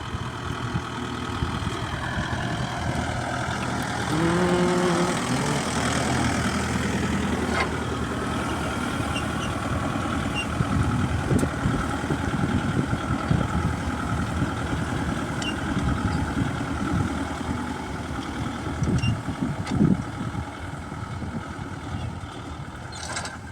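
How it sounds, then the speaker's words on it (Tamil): Kubota MU5502 tractor with a single cultivator working soil about a foot deep, its diesel engine a smooth steady drone with mechanical rattles and clanks running continuously at moderate distance. "வண்டியில் சவுண்டு சொல்லிக்கிற அளவுக்குலாம் இல்லை. ஸ்மூத்தாக சவுண்டு கர்றன்னு."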